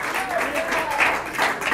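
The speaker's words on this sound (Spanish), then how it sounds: "Dale un fuerte aplauso al Rey de Reyes." Church congregation applauding in a steady, crowded wash of clapping, with a preacher's voice speaking over it.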